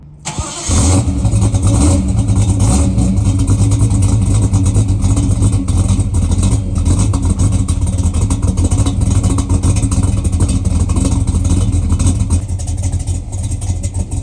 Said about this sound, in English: It's got that rumble, but it sounds like it's about to die.